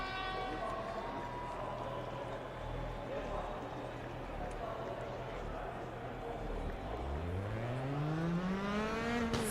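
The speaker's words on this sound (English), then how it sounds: "Just listen to the engine." A rally car engine at a race start on the Spielberg stage in Richard Burns Rally drones with a steady harmonic tone, then revs up sharply near the end, under ongoing commentary.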